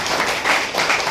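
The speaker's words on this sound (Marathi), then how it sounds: "सर्वांनी जोरदार टाळ्या वाजवून" A crowd claps loudly at a ceremony honouring successful 10th and 12th standard students, a dense, steady patter of hands filling the whole short moment.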